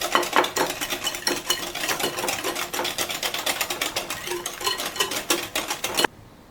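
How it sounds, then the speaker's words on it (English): Eggs are beaten into creamed batter for coconut banana bread with quick, rhythmic clinks and scrapes of a utensil against the bowl. The strokes stay close and steady for about six seconds, then stop abruptly. "add in the eggs one at a time, mixing well after each addition"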